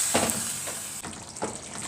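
Meat drops into simmering tomato sauce in a pan for Egyptian okra and meat stew, giving a soft steady sizzle with a few stirring scrapes, quiet and close.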